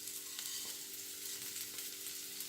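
Onion and curry leaves frying in vegetable oil, a faint, steady sizzle and crackle with light stirring scrapes, continuous and unbroken, no voices.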